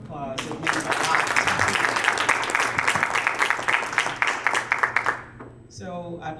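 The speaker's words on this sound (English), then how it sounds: "Don't you think we should give him another round of applause?" An audience at an Iowa state auditor's press conference breaks into a steady round of applause lasting about five seconds, dense clapping that cuts off sharply before a voice resumes.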